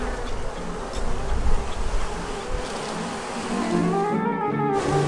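Honey bees buzzing steadily around a strong beehive kept by a Rio Grande Valley beekeeper in Brownsville, a dense continuous drone that fills the clip at moderate loudness with no voices.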